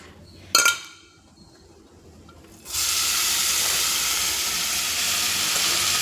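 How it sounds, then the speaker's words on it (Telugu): Spinach leaves dropped into hot oil in a cooking pot, a brief clatter followed by a loud, steady sizzle that holds without letup. "ఇదే గిన్నెలో కొంచెం ఆయిల్ వేసుకొని సరిపడే వేగడానికి మనం బచ్చల కూర వేసి వేయించేసుకుందాం"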